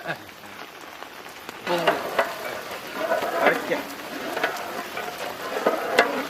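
Sugar sizzles in a hot frying pan while being stirred continuously, a crackling, scraping texture with irregular bursts throughout, with a voice speaking faintly in the background.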